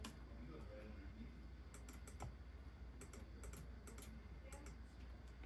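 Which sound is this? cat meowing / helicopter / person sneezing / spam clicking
spam clicking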